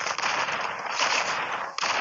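Rapid AK-117 rifle fire from a battle royale video game, a dense continuous burst of crackling shots, loud and close with only a brief gap near the end and no talking.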